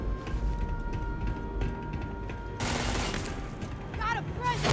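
Bursts of gunfire during a firefight in the video game Starfield, loud overlapping shots that build into a heavier barrage partway through, with faint game voices and electronic chirps toward the end.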